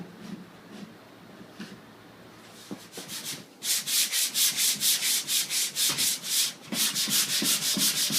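Skim-coated drywall mud on interior walls being sanded by hand: quiet scrapes at first, then loud, rapid, rhythmic rubbing strokes, close and continuous, with a short pause near the end.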